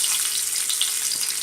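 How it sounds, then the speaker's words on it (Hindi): Chicken pieces frying over high flame in oil in a pan, a dense continuous hiss and sizzle, close and fairly loud, with no voices. "इसे पीसेस को हाई फ्लेम पे उलट पलट कर अच्छे से फ्राई कर लेना है"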